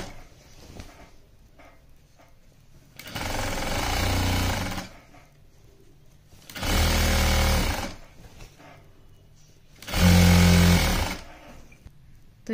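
An electric sewing machine stitches cloth lining in three separate runs of a few seconds each, a loud, fast, buzzing whir that stops abruptly between bursts with quiet handling in the gaps.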